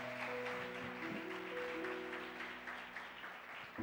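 A church congregation applauds during a worship service, a broad, moderate patter of many hands over sustained tonal notes, likely music or a held instrument, continuing at an even level throughout.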